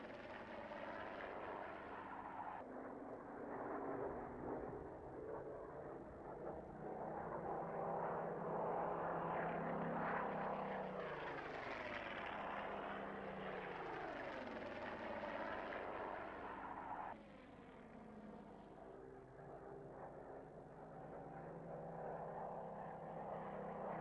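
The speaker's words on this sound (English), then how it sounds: "The Mark 14 carried Spitfires through to the end of the war" Spitfire Mark 14 propeller fighter flying overhead, its engine a steady, rich drone that swells and shifts in pitch as it passes and then fades to a lower hum.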